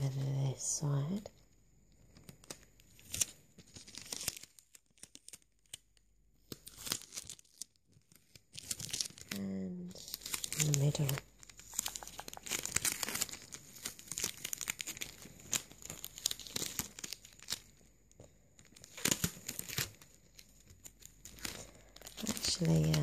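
Sticky sellotape handled close up for binaural ASMR, giving soft crinkling, peeling and tacky tearing sounds in irregular bursts, with quiet speech in places.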